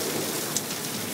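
Pouring rain in a thunderstorm, a steady dense hiss of downpour filling the whole short stretch with a brief faint crackle midway and no voices.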